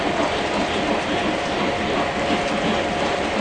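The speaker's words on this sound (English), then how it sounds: "it's pretty cool when all the trains are going, right?" Model trains running on Fast Track layout track, a steady dense rattling and clicking of wheels and mechanisms, continuous and fairly loud throughout with no breaks.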